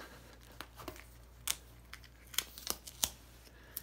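A strip of tape is pulled and torn from a roll at close range while mounting a Reflectix insulated window cover, giving several quick crinkling rips and crackles separated by short pauses against a quiet background.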